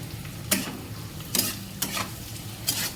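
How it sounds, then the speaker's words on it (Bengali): Chicken 65 fries in a pan with a low, steady sizzle, broken by four sharp scraping stir strokes at uneven intervals, close and clear, with no talking. "ভালো করে ফ্রাই করো, ফ্রাই করাটা দেখো তোমরা করছি"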